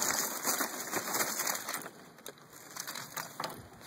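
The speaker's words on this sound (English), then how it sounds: "what I'm going to do is put on a few more coals" Charcoal coals added to a smoker, with close clattering, scraping and crunching knocks in an irregular run over a steady high background hiss.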